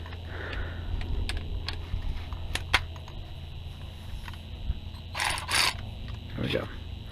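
A rivet nut tool sets a rivet nut for a running board installation, giving close, scattered mechanical clicks and ratcheting snaps, with a louder burst of crunching clatter near the end.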